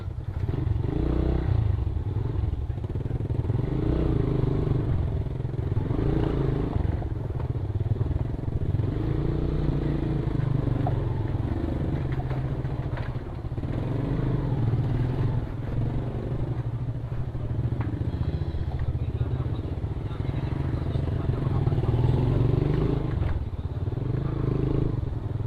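A Rusi DL150 and a Suzuki Raider J110 ride along together, giving a steady, loud engine drone with road rumble and wind buffeting that run on without a break, heard up close from the rider's position.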